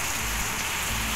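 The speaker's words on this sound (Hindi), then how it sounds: "कितनी खतरनाक बारिश होने लग गई" Heavy rain pouring down in a dense, steady hiss without letup, loud and close, with no voices.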